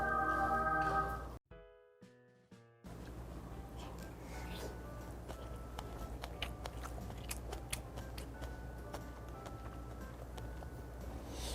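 Close chewing and crunching while eating snow crab at an all-you-can-eat crab restaurant, with soft irregular bites and mouth sounds going on steadily after a brief cut of other noise, with no voices over it.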